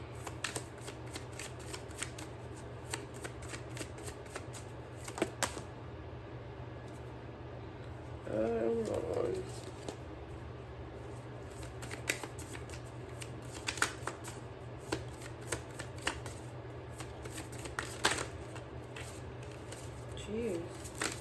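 Tarot cards shuffled by hand before drawing, scattered soft riffles and sharp card snaps spread over a long stretch, close but quiet against a steady low hum, with a brief murmur partway through.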